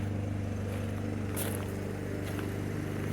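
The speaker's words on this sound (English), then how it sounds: "Excuse the noise there, the old lady's mowing." A lawn mower engine runs steadily nearby, a continuous low droning hum with a rhythmic pulse, with occasional faint clicks on top.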